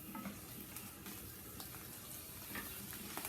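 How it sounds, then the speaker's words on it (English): Grease drains off cooked turkey sausage in a steady, close pour of liquid with a faint running-water hiss and no talking. "We're gonna go ahead and drain that turkey sausage real quick"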